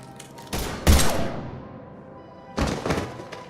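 Heavy gunfire in Mass Effect 3, two dense bursts of booming shots with a thudding low end, separated by a quieter gap of fading reverberation, loud and close with no voices.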